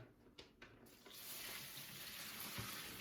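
Water poured into a custom background mix for a bioactive enclosure, starting with a few light knocks and then turning into a steady, close splashing pour that runs to the end.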